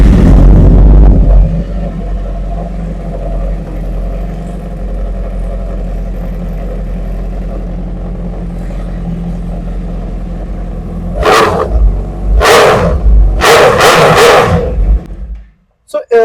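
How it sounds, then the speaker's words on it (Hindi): Suzuki Katana sport bike idling close by, a steady low engine drone broken near the end by several sharp throttle revs, with a voice briefly heard and a dog barking. "Let's hear the sound of this bike."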